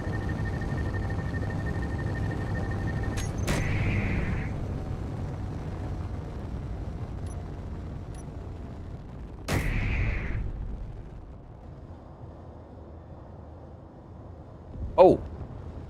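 Heavy cannons fire in the Space Engineers game, sharp booming blasts spaced several seconds apart, each with a short ringing tail over a low engine rumble.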